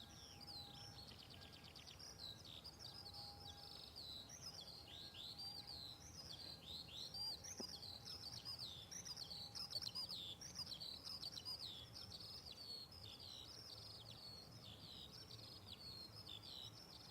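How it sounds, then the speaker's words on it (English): Small birds sing and chirp continuously at Bristol Airport in the early morning, a dense overlapping chorus of quick high tweets at moderate distance against a faint steady background hum. "You could just listen to the wonderful bird song here."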